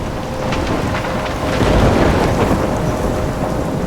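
Thunderstorm in the video game Life Is Strange: steady heavy rain hiss with a deep rolling rumble of thunder swelling in the middle, loud and enveloping, no voices.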